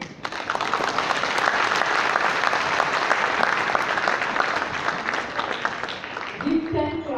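Crowd at a graduation ceremony in the Palais des congrès applauds the high table, a dense, sustained burst of clapping that fades near the end as a voice begins speaking.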